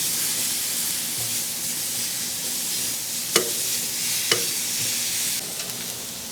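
Asparagus tossed on a grill over the hot firebox of a Lone Star Grillz offset smoker, giving a steady, close sizzle with two sharp metallic clanks partway through.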